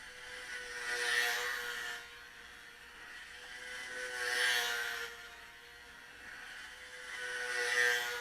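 Small foam stunter RC plane motor at full throttle, a high buzzing whine that swells and fades three times as the plane passes nearer and farther, faint and distant overall.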